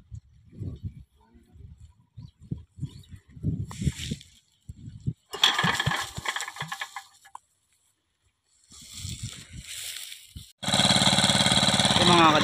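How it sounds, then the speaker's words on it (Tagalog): A small engine, cranked with a few sputtering attempts, then catches and runs at a steady loud buzz toward the end, with talking in between. "okay na umaandar na yung makina"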